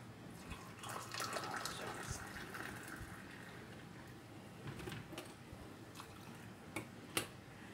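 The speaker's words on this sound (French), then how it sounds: "l'absinthe, il faut la rincer à l'eau chaude avant de la mettre dans la théière" Absinthe herb is rinsed under hot water before going into a teapot for mint tea, a quiet running trickle with faint splashes and a few small clinks near the end.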